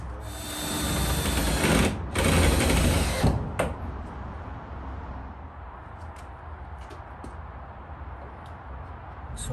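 A power tool whirs loudly as the first screw is tapped into the frame of a VW Bay Window bus for a safari kit install, a high buzzing burst for about three and a half seconds, then fading to a low hum.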